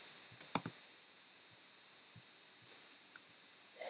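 Computer mouse clicks while navigating a fitness program's meal-prep web page, a few faint, sharp clicks spaced irregularly over quiet background hiss.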